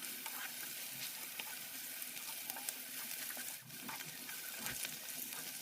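Chicken and onions frying in a pan while being stirred, a steady close sizzle with scraping and stirring scuffs throughout, no voices.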